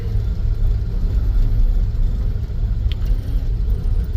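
A 1996 Chevy S10 engine fed by an Autolite 2-barrel carburetor on a 4-barrel intake, running with a steady loud low rumble up close, constant throughout with no talk.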